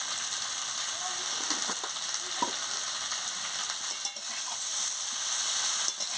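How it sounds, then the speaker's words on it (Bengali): Fish and cauliflower sautéing with salt in a hot pan give a steady, close crackling sizzle with a few soft stirring scrapes. No one speaks. "নুনটা দিয়ে ভালো করে কষিয়ে নিচ্ছি"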